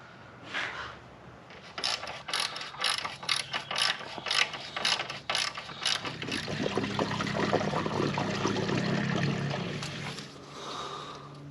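A ratchet drives a bolt back in after fitting a washer fluid reservoir on a diesel Jeep Gladiator, with a rapid series of close, sharp clicks followed by a softer, sustained rattling and clanking of tool and metal.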